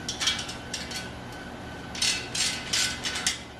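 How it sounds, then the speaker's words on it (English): A 15mm wrench loosening bicycle axle nuts on a beach cruiser, giving short bursts of metallic clicking and ratcheting in several brief groups, close and fairly quiet. "Go ahead and loosen the axle nuts."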